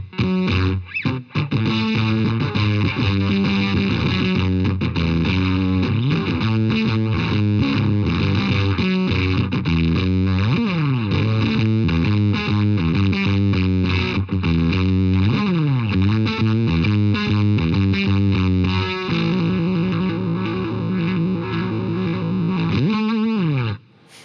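An electric guitar runs through a modern fuzz pedal set for a gated sound. It plays loud, buzzing, tightly cut riffs that stop abruptly between phrases, steady throughout, with a short gliding bend near the end.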